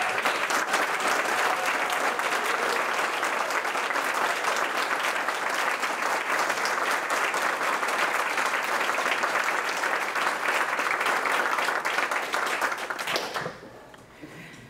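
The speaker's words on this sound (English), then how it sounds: "applause." Concert audience at an Independence Day philharmonic event applauding the standing American Legion Band, loud sustained crowd applause that carries on evenly before dropping away near the end.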